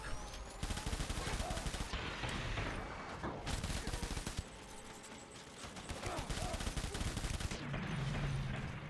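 Gunfire in Death Stranding, rapid sustained bursts of shots close and loud, firing in several long volleys with brief gaps between them.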